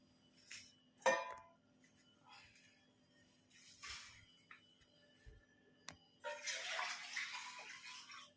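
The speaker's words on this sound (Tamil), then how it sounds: "இதில் நம்ம போட்டுட்டு அந்த வாட்டரையும் நம்ம ஊற்றிட போகிறோம்." Water poured into a rice cooker over basmati rice for a peas pulao, heard as a soft splashing rush that swells near the end after a few scattered clicks and knocks.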